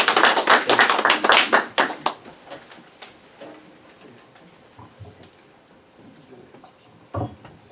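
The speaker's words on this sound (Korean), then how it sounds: "우리 환영의 박수로 한번 모시도록 하겠습니다" A church congregation claps in welcome at an anniversary revival meeting: a loud burst of clapping that thins out after about two seconds into scattered claps, then a near-quiet room with a single knock near the end.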